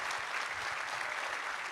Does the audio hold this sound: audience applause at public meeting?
yes